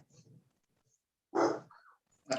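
A dog barks through a phone line during a circuit court hearing, giving a couple of short, muffled, compressed barks separated by silence.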